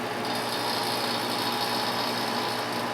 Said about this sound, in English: you're going to have to turn the recovery unit on